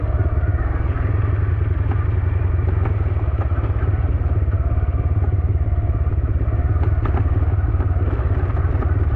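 A motorcycle rides along a rural village road, recorded close from the bike. Its engine makes a steady, loud rumble with rattling clatter throughout, and no voices.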